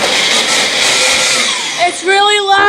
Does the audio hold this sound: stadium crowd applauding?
no